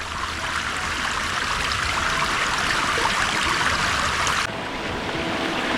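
Water flows steadily along an irrigation channel, an acequia, heading toward a waterfall. The rushing is loud and continuous with no break, and no voices are heard.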